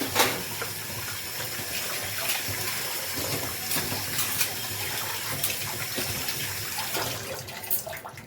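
Tap water runs steadily over cooking pots being scrubbed clean at a kitchen sink, a continuous splashing gush with small clinks and rubbing noises, close and moderately loud with no talking.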